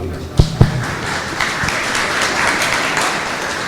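An audience at a municipal public hearing on a city master plan applauds the incoming planning secretary: a couple of sharp claps near the start, then a steady wash of crowd clapping.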